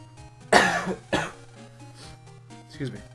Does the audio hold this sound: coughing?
yes